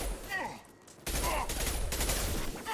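Rockets and heavy weapons fire in a Mass Effect Legendary Edition combat scene, a burst of loud explosive blasts and gunfire after a brief lull, with a player talking over it.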